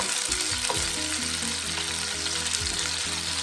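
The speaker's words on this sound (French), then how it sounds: "Et puis, je fais frire" Strips of chicken for a curry frying in hot oil, a loud dense continuous sizzle with low bubbling and a background hum underneath, no voices.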